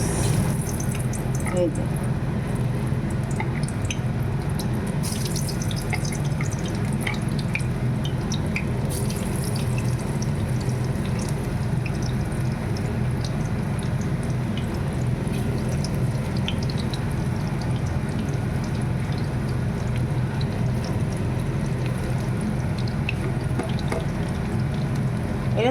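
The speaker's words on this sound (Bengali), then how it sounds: "এখন আমি দিতে যাচ্ছি একটা একটা করে এই দেখুন চিপস।" Potato chips coated in besan batter frying in hot oil make a steady, dense sizzle that lasts throughout, with a brief voice speaking over it.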